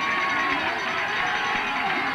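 A high school football crowd of Bobcat fans in the stands rising in noise on a third down, a dense roar of voices and chatter heard from a distance, with an announcer talking over it.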